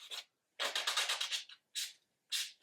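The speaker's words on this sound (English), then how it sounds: "So I'm just buffing the scratches out" An acrylic nail being buffed with a buffing block to remove filing scratches, heard as short, close rasping strokes in bursts, with one longer run of rapid back-and-forth rubbing between pauses.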